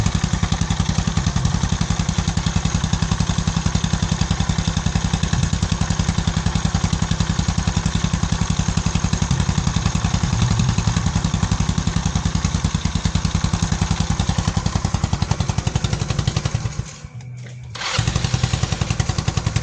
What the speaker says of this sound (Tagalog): Singaw yung tambutso.